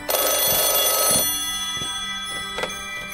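A phone bell rings close and loud in one burst of about a second, followed by fading ring tones and a short second chime.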